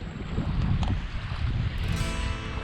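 A sailboat moves along a calm river in Bahia, Brazil, at about four to five knots, giving a steady rushing wash of water and wind noise.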